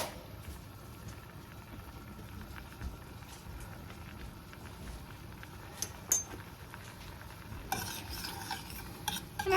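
Home-orchard peaches with a quarter teaspoon of cinnamon cook in a pot for peach cobbler nachos. A spoon stirs with soft scraping and occasional clinks over a low simmering sizzle.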